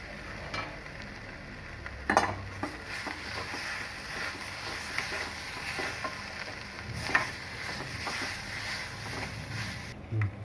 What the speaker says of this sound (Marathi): हे असं सर्व मसाला आणि बटाटे चांगले असे परतून घ्यायचे